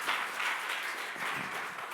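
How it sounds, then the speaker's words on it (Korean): A conference audience applauds a presenting judge, a dense, steady wash of clapping hands that stays even and fairly loud throughout, with no voices over it. "좋은 발제를 하신 부장판사님께 다시 한번 큰 박수를 부탁드리겠습니다."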